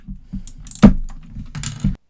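Clicky mechanical keyboard fitted with Gateron blue switches, struck in a few sharp, loud keystroke clusters with brief pauses between them, close up and with no talking.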